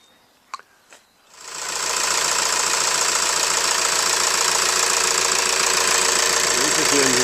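VW T5 Highline campervan with a 140 horsepower diesel engine, a couple of clicks followed by the engine starting and settling into a steady, loud, close idle.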